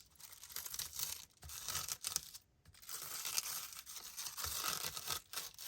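Adhesive backing peels off a craft embellishment for a basket. Close, faint ripping and crinkling comes in a few continuous stretches with brief pauses.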